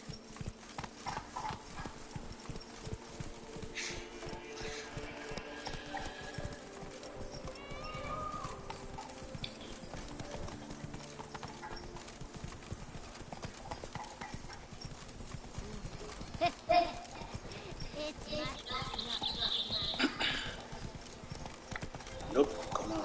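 Roach the horse in The Witcher 3: Hearts of Stone, clip-clop hooves trotting steadily along a road with occasional snorts, over game music, with characters talking throughout.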